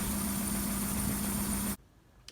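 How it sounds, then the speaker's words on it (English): VW Golf 1.6 engine idling rough with a misfire, a close, steady uneven drone with a low shaking pulse that cuts off abruptly partway through. "We've got the engine running."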